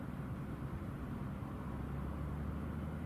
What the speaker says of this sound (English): just a gentle takeoff